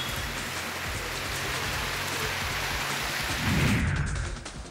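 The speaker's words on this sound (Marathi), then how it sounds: "ठाण्याच्या मीरा भाईंदरमध्ये मुसळधार पावसानं हजेरी लावली होती" Heavy monsoon rain pours steadily over flooded streets in Mira Bhayandar, Thane, a dense continuous hiss of drops hitting surfaces, swelling into a louder low rushing surge near the end before easing slightly.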